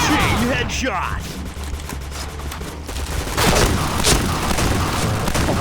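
Rapid gunfire in the shooter game Point Blank, dense and continuous with repeated shots and louder bursts, with a player talking over it.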